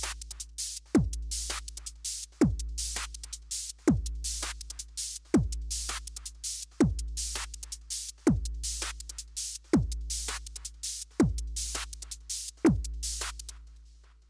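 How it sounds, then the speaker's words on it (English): A long tight kick drum patch on a Korg Volca Drum, with release set to maximum: about eleven deep, booming kicks at a slow steady pace, each with a sharp attack and a long low tail and a faint tonal ring. "This is a longer version of the tight kick that we just played."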